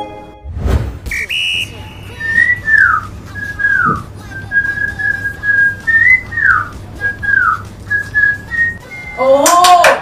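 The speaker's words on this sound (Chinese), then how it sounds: "你的个人技是吹口哨吗？" A person whistles a tune solo, clear melodic phrases rising and falling in a steady sequence, framed by short bursts of other noise at the start and end.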